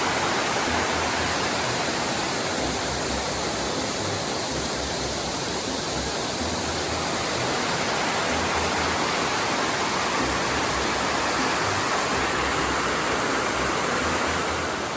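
Water pours steadily over a river weir in Burrs Country Park, a continuous, dense rushing roar with no pauses and no voices.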